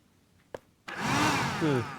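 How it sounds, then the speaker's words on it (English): A handheld vacuum in the video game Deponia starts after a short click, rising into a loud, steady whirring suction whine that wavers in pitch before easing slightly. "I'm doing this to test the suction power of the handheld vacuum"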